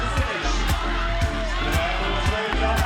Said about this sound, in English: just listen to those roars from the Dutch crowd, urging on Jasmine Lau